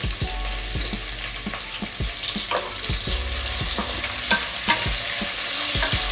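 Long-sliced onions with fennel seeds sauté in a pan for palak pulao, giving a steady close sizzle broken by repeated sharp scrapes of a spatula stirring, with no speech.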